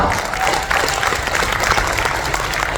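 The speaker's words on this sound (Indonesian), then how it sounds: "Tepuk tangan dulu, luar biasa." Audience applause at a motivational event: a thick, continuous burst of many hands clapping at once, steady and fairly loud throughout.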